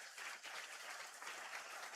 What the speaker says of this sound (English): I'm getting applause.